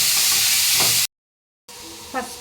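Boiled papaya pieces drop into a hot pan of sizzling tempering, a loud broad hiss that cuts out abruptly, then returns softer with a brief stirring scrape.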